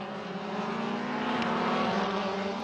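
Race cars accelerating through a corner on a racing circuit during an MRF Challenge race, a loud continuous engine roar rising steadily in pitch, with no talk.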